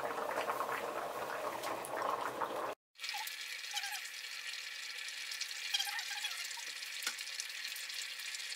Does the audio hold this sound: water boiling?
yes